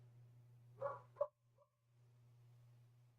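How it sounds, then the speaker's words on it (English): A dog barks twice in quick succession, then gives a softer short yip, faint and somewhat distant over a steady low electrical hum in a quiet room. "you might even hear her barking right now"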